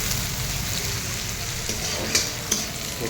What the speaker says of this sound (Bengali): প্রথমে তেল দিয়ে ভাজা পেঁয়াজ দিয়ে